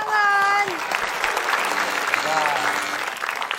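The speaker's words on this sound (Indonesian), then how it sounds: "Kita tepuk tangan." Studio audience applauding during an Indonesian TV quiz game show, a dense sustained wash of clapping with a musical jingle tone at the start and a short sliding chime partway through.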